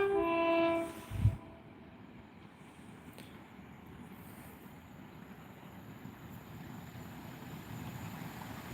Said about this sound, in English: Here is our first train, the express to Portadown.